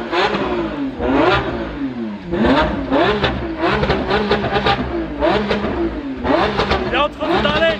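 A powerful naturally aspirated V12 engine of a Lamborghini Aventador SVJ revs repeatedly in sharp, rising bursts about five metres away, each roar swelling and falling, with a person talking over it.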